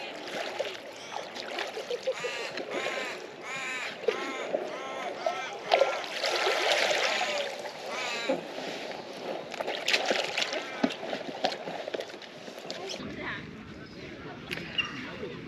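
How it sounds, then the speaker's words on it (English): A Komodo inflatable kayak moves through water with steady sloshing and paddle splashes close by, continuous for most of the stretch before quieting near the end. "for the price and the size of the boat, it does track through the water pretty good"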